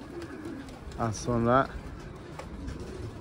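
Pigeons in a Turkish loft cooing, a clear nearby rolling coo rising then falling over about a second, with someone speaking briefly and quiet ambient noise around it.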